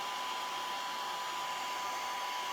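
A handheld electric hair dryer blows steadily up close on a craft project at a rescue event, a continuous airy whoosh with a bright motor whine, unbroken for the whole stretch with no talk.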